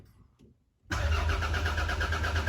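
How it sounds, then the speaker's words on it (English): A Toyota Carina II, abandoned for eight years, is cranked over after a quiet pause, then a loud, steady mechanical whirring and rumbling churns on close by without pause. "We're just going to turn the car over, see if we can hear a word."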